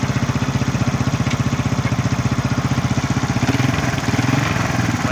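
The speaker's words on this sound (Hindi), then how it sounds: "आप लोगों के सामने इंजन स्टार्ट है, बाइक का व्हील घूम रहा है" Honda CB125F motorcycle engine running in second gear with the rear wheel spinning, a steady close, loud rapid thumping chug that stays even throughout with no talk.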